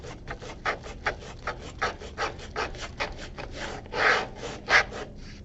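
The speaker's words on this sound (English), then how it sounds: "Try to smush my garlic here on the cutting board." Garlic smushed on a wooden cutting board, a rhythmic series of close scraping and rubbing strokes, roughly two per second, with no talking.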